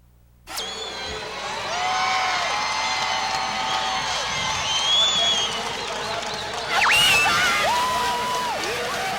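Basketball fans at Holt Arena roar for the 2001 Big Sky Women's Basketball Championship between Idaho State and Montana. The crowd noise is loud and continuous, with shrill whistles and shouts, and it swells again near the end.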